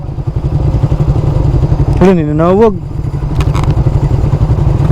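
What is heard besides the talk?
motorcycle engine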